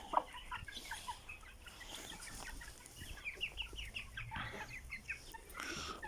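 A hen with her chicks clucks softly and repeatedly, with high chick peeps scattered throughout, fairly close and with no talk.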